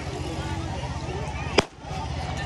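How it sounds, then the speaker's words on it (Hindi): One sharp firecracker bang set off by children at a crowded Eid fair, cutting through a steady murmur of the crowd and nearby voices, followed by a short dip in the background noise. "ये पटाखे फोड़ रहे हैं"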